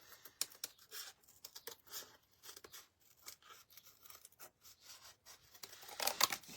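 Scissors cutting small V-shaped notches into material for a ladybug door hanger, a close run of quick, irregular snips and crisp paper-like rustles, with a louder burst of cutting toward the end.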